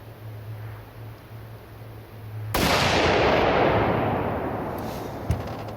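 One loud rifle shot firing homemade reloaded ammunition through a heavy barrel outdoors, an abrupt blast followed by a long fading echo. A faint click comes near the end.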